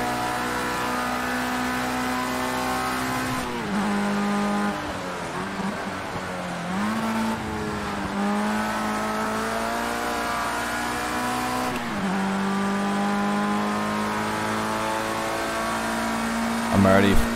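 Race car engine in Project Cars 2 on a flying lap, a steady high whine that rises and drops through gear changes and braking zones, with a voice commenting over it.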